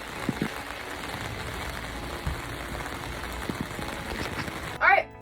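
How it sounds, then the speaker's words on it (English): Rain heard from inside a parked car in a Walmart parking lot, a soft steady patter on the roof with scattered drops, faint and continuous, and a brief louder shuffle near the end. "It's really raining."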